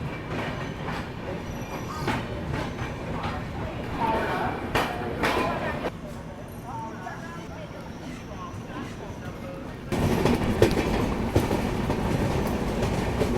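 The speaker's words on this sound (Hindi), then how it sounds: "खूबसूरत डिपार्चर हो रहा है जयनगर रेलवे स्टेशन से" Swatantra Senani Express pulling out of Jaynagar railway station, a continuous rumble with wheel clicks and clatter that grows heavier toward the end, while a person talks over it.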